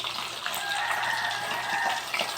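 Tap water running steadily while dishes are washed, a continuous close hiss and splash with no pauses.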